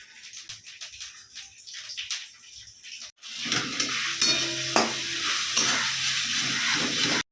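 Spice masala being sautéed with boiled potatoes and cabbage in a home kitchen: soft scraping and stirring at first, then a loud, continuous sizzle with occasional spatula clinks.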